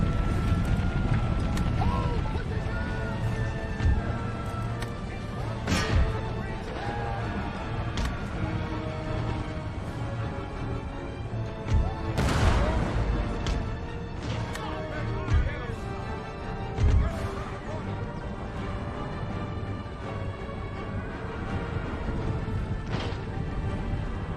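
A cavalry charge in Empire: Total War, with light dragoons riding against cannons: constant galloping hooves, occasional whinnies and sharp crashing impacts over a dense battle din.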